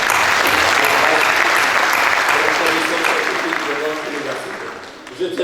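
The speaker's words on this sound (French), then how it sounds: "Je tiens à les applaudir, tous ces chercheurs." An audience at the opening ceremony of a university doctoral research days event applauds its researchers. Loud, dense clapping starts strong and then slowly thins and softens over a few seconds.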